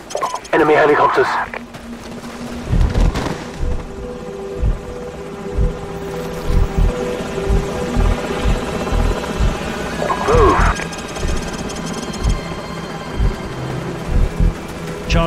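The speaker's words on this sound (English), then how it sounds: "Enemy helicopters." Helicopter rotor drone with rhythmic thumping under Call of Duty 4: Modern Warfare game action, enemy helicopters, bursts of gunfire and talk, the engine noise steady throughout.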